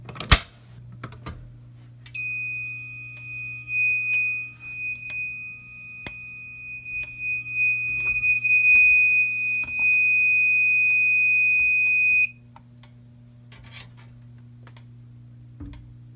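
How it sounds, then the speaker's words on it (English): A fire alarm system under test sounds a loud, steady high-pitched alarm tone continuously for about ten seconds, then cuts off abruptly, leaving a low background hum and faint clicks. "Setting off the fire alarm in midday."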